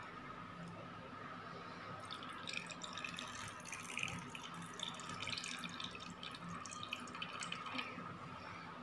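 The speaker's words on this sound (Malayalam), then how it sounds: "ഓക്കെ, അപ്പം ഞാൻ വെള്ളം വെച്ച് കൊടുത്തിട്ടുണ്ട്." Water trickles and drips faintly into an indoor plant pot built from ice cream sticks, a soft, steady wet sound with no talking.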